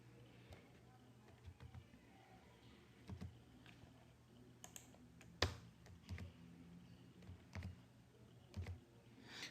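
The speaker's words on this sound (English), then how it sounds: "let me just type plain text here" Plain text typed on a computer keyboard in a word processor, a quiet run of soft, uneven key clicks with a few sharper taps, close and alone.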